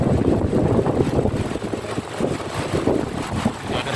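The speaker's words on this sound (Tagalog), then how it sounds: "Fully functional yung motor. Okay, wiper motor assembly." A Hyundai Mobis wiper motor assembly for a 2011-2018 Hyundai Accent runs on a bench test, giving a steady close-up motorized hum with faint rhythmic pulsing and no talk.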